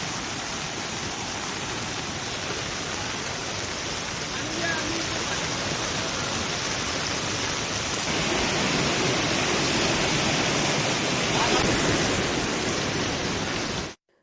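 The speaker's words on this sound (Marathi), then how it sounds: "जळगाव जिल्ह्यामध्ये रात्रीपासूनच मुसळधार पाऊस आहे" Heavy overnight rain in Jalgaon district, with rivers and streams in flood, comes through as a constant broadband rushing hiss of downpour and moving water, steady and fairly loud for the whole stretch before cutting off abruptly.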